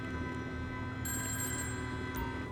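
A phone rings inside GTA Online, a steady electronic ringtone trilling continuously over a constant game background hum, with no one talking.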